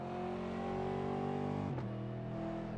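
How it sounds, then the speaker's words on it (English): Race car engines in a sim racing game hold a steady, loud, tonal drone with layered harmonics, dipping briefly near the end before settling back into a continuous roar. "I love the sound of these cars."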